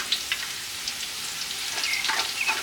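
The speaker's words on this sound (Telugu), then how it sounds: "వేడెక్కిన నూనెలో సన్నగా కట్ చేసుకున్న ఉల్లిపాయలు వేసుకొని దోరగా వేగేదాకా" Thinly sliced onions frying in hot oil in a clay pot for a Nellore country chicken curry, a steady hissing sizzle with faint crackles and light stirring, no one speaking.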